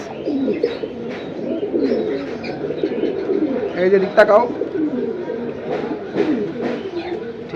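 High-flyer pigeons kept in a fancier's sale collection coo softly in the background while someone talks steadily over them throughout.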